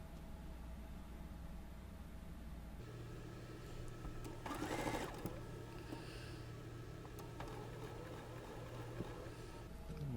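A sewing machine stitches a quilt block seam, running steadily and close for the whole stretch with a hum that thickens about a third of the way in and a brief louder burst midway, no voices.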